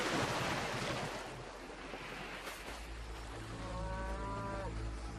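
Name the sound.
cattle mooing, the herds of Helios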